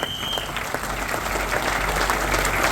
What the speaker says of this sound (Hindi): खड़े होकर आप लोग एक बार जोर हाथ ताली बजाइए डॉक्टर लीम सियोजिन के लिए